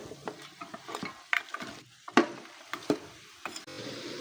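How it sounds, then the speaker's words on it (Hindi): Beef pieces frying with garlic in a pot, with a soft sizzle and scattered scraping stirs at an irregular rhythm, close up and without talk. "गोश्त को लहसुन में भूनने देंगे"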